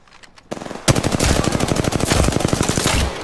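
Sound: gunfire in the video game Apex Legends

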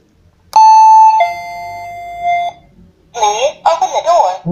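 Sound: wireless doorbell playing a long chime tone

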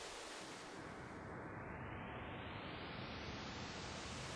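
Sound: synthesized pink noise with reverb

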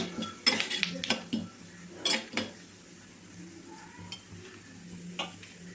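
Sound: mustard seeds and lentils sizzling in hot oil

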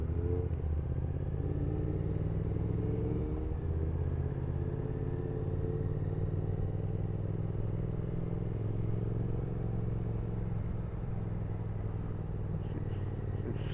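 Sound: Triumph Speed Twin motorcycle riding

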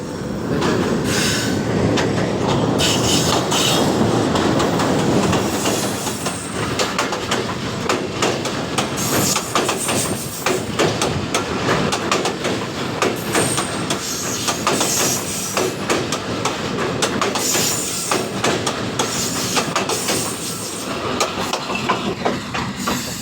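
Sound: train passing by

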